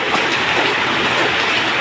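Heavy rain pours down in a dense, steady hiss, loud and close, with no voices.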